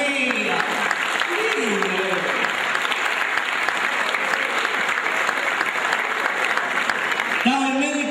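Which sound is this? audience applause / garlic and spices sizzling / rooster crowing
audience applause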